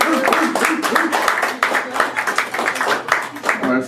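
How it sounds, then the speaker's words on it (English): Live comedy-show audience claps in a dense, steady round of applause, loud and close throughout with crowd noise mixed in. "Round of applause."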